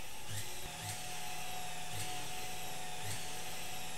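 An inertioid current generator runs with a steady mechanical hum and faint whine, while short regular thumps come back roughly every second alongside it.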